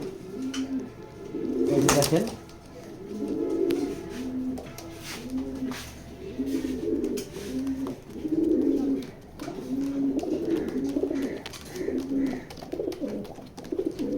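A pair of black racing pigeons coo in a loft with repeated low throaty coos in a steady rhythm. Someone talks over them now and then.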